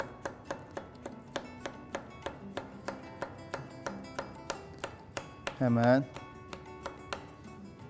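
A knife chops pickled mussels finely on a cutting board in a kitchen, a steady run of crisp, evenly spaced taps, close and fairly quiet, interrupted once by a short spoken word.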